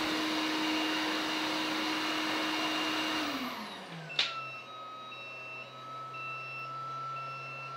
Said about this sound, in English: I'm just going to remove the power from the actual Hoover.